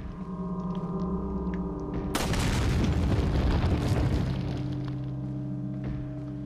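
A single heavy gunshot in Resident Evil 4 on GameCube, a sudden loud boom that decays over about two seconds over a steady droning game ambience.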